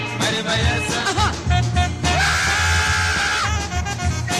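A sustained vocal scream in West African psychedelic music, held loud over a dense band with drums and guitars.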